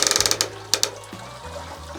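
Ratcheting pulley on a home brewing rig during all-grain sparging: a quick run of sharp mechanical clicks up close, then a brief pause and a couple more clicks, with a low hum underneath.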